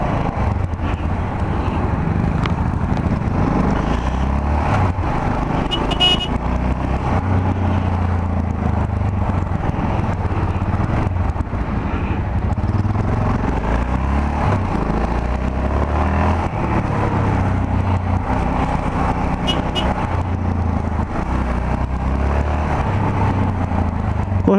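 A Yamaha XT660R motorcycle splits lanes through city traffic, its steady engine drone loud and continuous throughout, with road rumble and passing vehicle noise around it.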